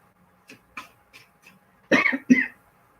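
Two harsh, loud coughs close by, following a few soft throat sounds and small noises in an otherwise quiet room.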